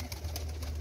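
A rooftop pigeon in Jhelum gives a brief, fairly faint, low cooing call, heard alone and lasting under a second.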